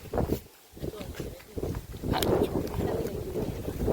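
Strong wind buffets the microphone in loud, rumbling gusts, with a person speaking over it.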